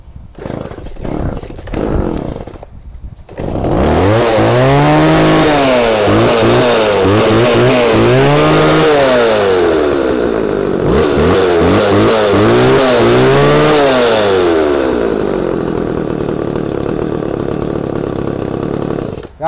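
A chainsaw engine starts with a few short pulls and sputters, then roars loudly, revving up and down repeatedly, close and alone.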